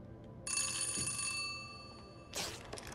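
A telephone rings in the zombie video game Dead Island 2: a bright, metallic electric bell trill holds for about two seconds, then a short harsh burst follows, fairly loud over a quiet low background.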